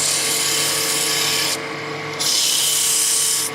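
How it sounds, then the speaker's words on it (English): A woodturning tool smooths rough tool marks on a spinning piece of wood on a lathe, giving a steady close scraping whir with a brief dip in the hiss midway. "just smoothing out my rough tool marks"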